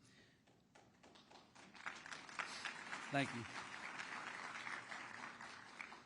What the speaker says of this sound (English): I got more than one clap, so that was good.